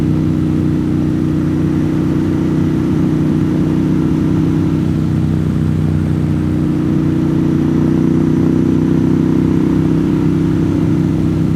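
A motorcycle riding a curvy mountain road, with a loud, constant low engine drone and heavy wind rumble that hold almost unchanged throughout, and no talk.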